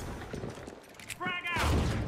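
Gunfire from the video game The Finals, a quick burst of shots and thuds followed by a heavier boom, layered with in-game noise and a voice underneath.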